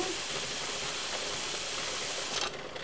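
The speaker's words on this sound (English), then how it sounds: "Lots of steam." Loud, continuous hiss of steam venting under pressure from a pressure canner, close by, dropping off sharply right at the end.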